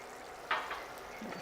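A spoon stirs Rajasthani matar dal, a pea lentil curry with garam masala and fresh coriander, in a cooking pot, giving a few faint scrapes and soft clinks in a quiet moment.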